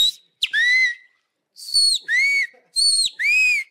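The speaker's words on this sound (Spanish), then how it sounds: "¿Cómo nace el silbido ahí?" A person whistles loudly and close up in a series of six clear, rising-and-falling tones, a lone call followed by paired two-note phrases with short silent gaps between them.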